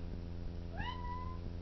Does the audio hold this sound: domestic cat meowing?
yes